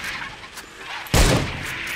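A single gunshot in the sci-fi survival game INSOMNIA: The Ark, one sudden loud blast with a short ringing tail, following a low steady ambient hum.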